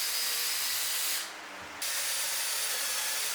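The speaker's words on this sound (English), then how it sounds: "Here I'm drilling all the holes for the table." A drill bores pocket holes into lumber for a tabletop in a cold workshop, a loud steady whir with a brief drop in intensity before resuming.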